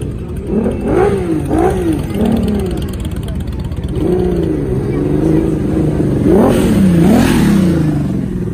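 Honda CBX 1000 motorcycle engine at an exhibition stand, rising and falling in repeated revs over steady idle, fairly close and loud, with crowd noise and voices around it.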